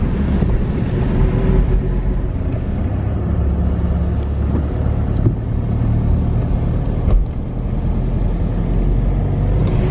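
A Porsche Carrera GT supercar drives through rain in Monaco, giving a steady, loud engine and tyre roar on wet road that holds throughout with no talking.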